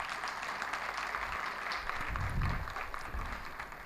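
An audience applauds youth organizers at a youth nation-building gathering, with steady, moderately faint clapping that continues unbroken throughout.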